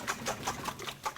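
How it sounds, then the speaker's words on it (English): Wire whisk beating eggs in a bowl for a Spanish tortilla, a quick, steady rhythm of clicking strokes, close and moderately loud, heard alone. "So we're going to whisk all the eggs,"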